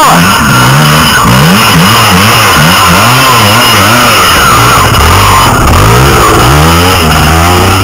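Off-road vehicle engine revving hard on a dirt trail, loud and close, with repeated rising and falling surges of acceleration throughout.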